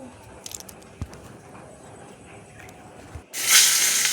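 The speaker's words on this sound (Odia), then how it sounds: "କଢ଼େଇ ଗରମ ହେଲା ପରେ ତେଲ ପକାଇକି ମାଛ ପକାଇ ଦେଇଥିଲି" Paniya khia fish frying in hot oil in a kadhai, a sudden loud rush of sizzling hiss that swells near the end after quieter background noise and a few faint knocks.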